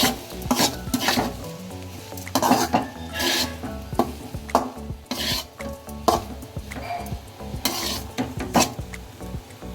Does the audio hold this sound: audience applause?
no